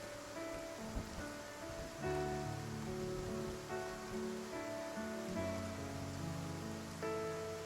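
Rain patters steadily in the video game Love and Deepspace, a soft continuous wash of drops under gentle sustained music.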